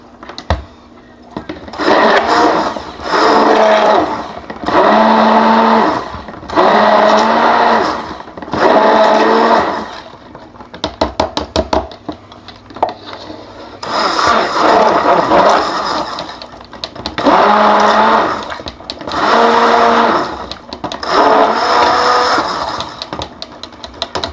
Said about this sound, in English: Let me clean my stick blender off.